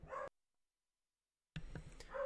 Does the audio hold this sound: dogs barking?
yes